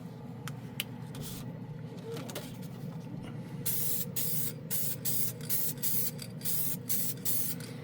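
A can of Glidden Max-Flex flat white spray paint, tested on plastic models, hisses in repeated short bursts and longer sprays, close and steady, over a low background rumble with no talking.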